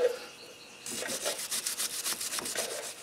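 A wire brush scrubs the splines of a Jeep front axle shaft, rapid rhythmic scratchy strokes close up, following a brief quieter rub at the start.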